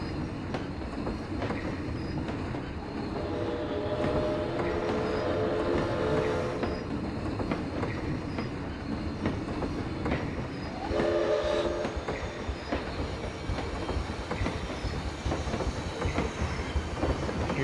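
A park train in the Planet Coaster video game rolls along steadily, with continuous rumbling rail noise and rhythmic wheel clatter throughout, plus a couple of brief whistle-like squeals partway through.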